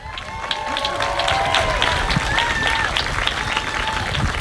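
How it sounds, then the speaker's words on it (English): An audience at a Juneteenth event gives sustained applause, a dense wash of clapping with some cheering and voices mixed in, loud and steady. "Give her a round of applause."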